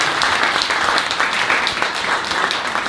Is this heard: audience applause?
yes